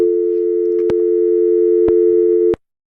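A steady electronic telephone tone drones continuously, broken by a few brief clicks, then cuts off abruptly into silence.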